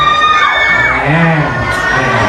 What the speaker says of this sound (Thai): เสียงกรี๊ดดังมากเลยนะะ